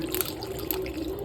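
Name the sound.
water pouring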